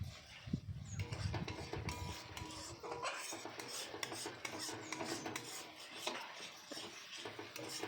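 A spatula scrapes and stirs a spice paste with Kashmiri chilli in oil in a wok, a steady rasping rub with light metal clinks throughout, close and fairly loud, with no talk.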